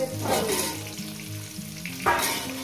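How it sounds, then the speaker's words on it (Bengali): Potatoes fry in oil with a dense, steady crackling sizzle, close and moderately loud, joined by a few bursts of louder hissing as they are moved, with no voices. "আলুগুলো সুন্দর করে লাল লাল করে ভেজে নেবো"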